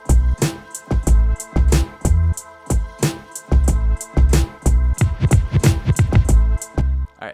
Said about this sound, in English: Altogether, those drums and the bass sound like this.